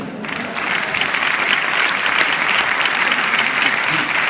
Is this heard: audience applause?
yes